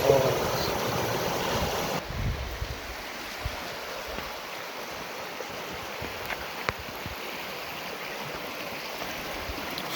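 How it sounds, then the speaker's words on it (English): Small creek spilling over many little waterfalls at the bottom of a canyon on the Sulphur Creek Trail in Capitol Reef National Park, a steady close rush and splash of water with some wind, no talking. "following this beautiful little creek. Lots of mini falls, more than I can count"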